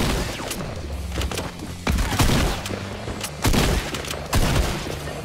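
Hunting rifle shots in Fortnite Chapter 2 Season 3, several sharp cracks spaced a second or so apart over a steady bed of game noise, loud and close, with no talking.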